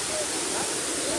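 Sirimane Falls rushing hard and swollen after rain, a dense steady roar of water filling the whole clip with no break.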